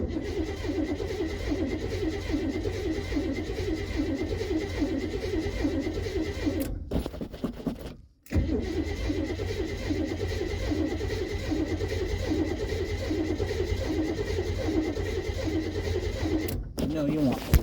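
A car engine is started through its ignition module after a failed ignition repair, ahead of a steering column swap. It then runs in a steady, close mechanical drone with two brief cut-outs.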